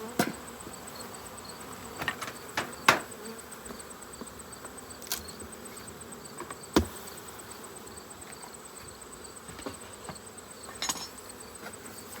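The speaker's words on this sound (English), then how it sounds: "There's a lot of bees in this hive." Honey bees buzzing around an opened hive during a fall honey harvest, a steady close drone of many insects with occasional sharp clicks and knocks of hive equipment, no voices.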